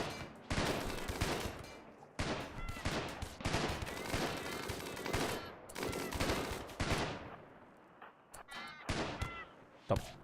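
Rapid heavy gunfire from giga turrets in the video game Rimworld, loud dense bursts of shots rolling over each other for several seconds, pausing briefly, then resuming with scattered sharper reports near the end.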